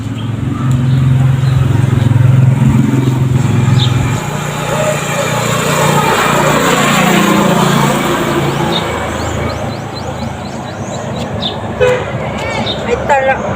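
A motorcycle engine runs steadily and close by for most of the stretch, its low drone loud from the start and easing slightly later, with a person speaking over it and brief higher squeaks near the end.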